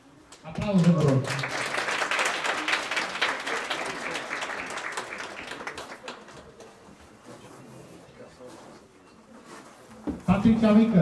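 Crowd applause at a working equitation competition in Cuzdrioara, Cluj, swelling quickly into a sustained clatter of clapping that slowly fades before a voice returns at the end.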